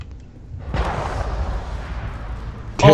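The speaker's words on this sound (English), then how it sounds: "Did I hear that gunshot from all the way over here?" Gunshot in the Mass Effect video game, a single loud blast with a booming tail that rolls on for about two seconds, then a sharp sound at the very end.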